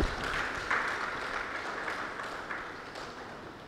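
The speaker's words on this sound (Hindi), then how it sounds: "आप सब भी जोरदार तालियों के साथ मंच पर आसीन महानुभावों का स्वागत करें" An audience at a Raksha Bandhan Sneha Milan gathering in Naya Raipur applauds guests taking the stage, a steady wash of clapping from many hands, moderately faint and distant throughout.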